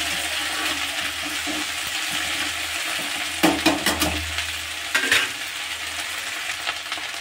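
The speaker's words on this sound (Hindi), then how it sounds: "सब्जी को मीडियम गैस पे पकाएंगे।" Okra bhujiya sautéing in a pan on medium gas, a continuous low sizzle with a few clattering stirs and scrapes midway, close and fairly loud, no voices.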